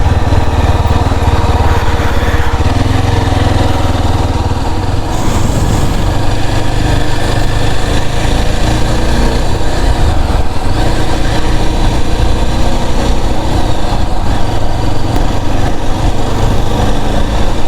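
A Yezdi Adventure motorcycle engine hums steadily under load while riding, a loud, continuous drone with a constant roar of air and road noise and no pauses.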